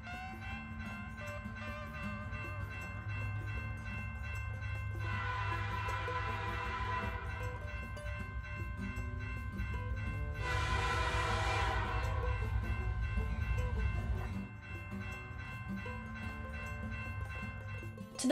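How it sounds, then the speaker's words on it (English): A very long freight train rolls past in Texas with a steady low rumble of wagons, while its horn sounds in two loud sustained blasts over the passing cars; no voices are heard. "This train went on for miles."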